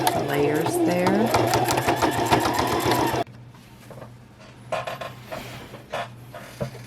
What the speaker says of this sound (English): I'm just going to sew slowly because there's a lot of layers there.